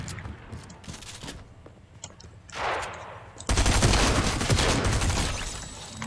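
Rapid automatic gunfire rattles in a video game, faint and distant at first, then a whooshing swell before a loud, sustained volley of close shots fills the rest.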